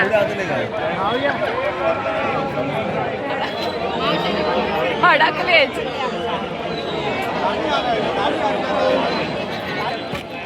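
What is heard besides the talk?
crowd at the Sateri jatra (village fair) in Mhapan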